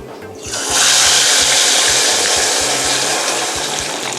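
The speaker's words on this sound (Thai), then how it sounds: "แล้วเราก็ชุบแป้ง เอาลงไว้ทอด" Battered seasoned tofu drops into hot oil and erupts into a loud, close, continuous sizzle that stays strong, with a low pulsing hum running underneath.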